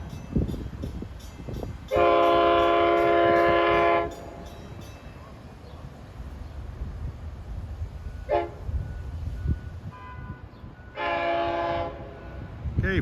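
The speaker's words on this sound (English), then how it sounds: "Eastbound equipment train from Patchogue to Babylon." An eastbound equipment train passing from Patchogue toward Babylon, its rumble steady beneath two long, loud horn blasts and a short toot between them, no voices.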